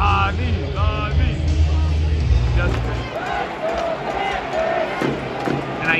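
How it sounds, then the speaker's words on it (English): A hockey playoff crowd in Florida at a Panthers versus Edmonton game chants goalie Sergei Bobrovsky's name, a loud, steady mass of voices in the arena, with rhythmic shouting over the general din. "You make a save and the whole crowd is chanting your name."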